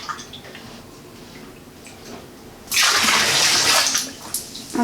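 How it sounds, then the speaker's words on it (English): Milk pours into a bathtub holding some water, a loud splashing gush starting partway through over faint earlier drips and trickles, then easing off near the end. "Next, I'm going to pour some milk."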